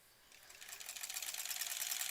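A quilting sewing machine, driven by its foot pedal, speeds up from quiet into a fast, even needle chatter that grows louder and stays steady.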